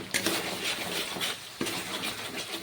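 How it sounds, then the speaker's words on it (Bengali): Spices are stirred and fried in a pan with a splash of water for a soybean, capsicum and poppy seed dish: repeated metallic scraping and utensil knocks over a soft, faint sizzle. "আর একটু নেড়ে চেড়ে ভেজে নেব।"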